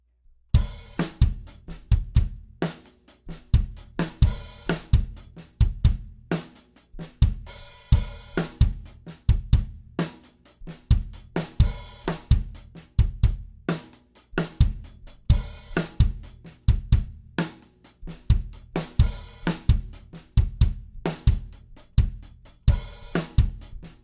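Drum kit plays a slowed-down songo groove with hi-hat, a dense steady pattern of kick, snare and cymbal hits repeating evenly throughout, loud and close with no talking.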